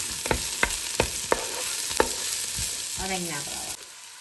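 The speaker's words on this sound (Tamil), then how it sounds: "வெட்டி வச்ச லீட்ஸை போடுவோம். லீட்ஸும் இனி நல்லா வதங்கினா" Chopped leeks go into a pan with sautéed carrots for rava upma, hissing steadily up close while a spatula clicks against the pan several times, followed by a brief squeaky scrape.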